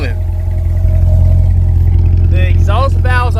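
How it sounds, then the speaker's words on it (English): A Chevrolet Corvette C8 with its 490-horsepower LT2 V8 idles in track mode with the exhaust valves open, a loud, deep, steady rumble close by, with someone talking over its final second. "LT2 490 horsepower V8 rumbling"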